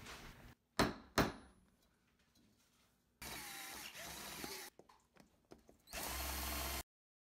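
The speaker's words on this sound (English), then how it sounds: "So first I have to drill 4 holes and then add the U-bolts." A power drill drills holes in metal, whining in short bursts, then running in two longer loud stretches, with clunks and quiet gaps between.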